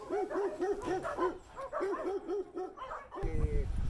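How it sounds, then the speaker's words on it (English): Dogs yipping and barking in a quick, rhythmic string of high-pitched yelps, close by, ending in a burst of noise. "its cacophony of barking canines"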